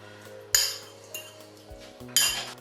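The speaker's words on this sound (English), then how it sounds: "we take our sauce that we made and we put that all over our potatoes" A metal spoon scrapes and clinks against a dish while sauce is spooned over potatoes, heard as three bright clinks spaced apart over a quiet steady hum.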